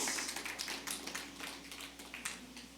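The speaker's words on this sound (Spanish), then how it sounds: "Alguien déle un aplauso fuerte porque esto fue profetizado miles de años antes." A church congregation applauds during a sermon about Israel, a dense, continuous patter of many hands that sounds somewhat distant and fairly soft, with no voices on top.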